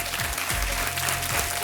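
An audience claps to welcome ten new contestants on a television quiz show studio set, a dense, steady burst of applause with low music or background rumble underneath.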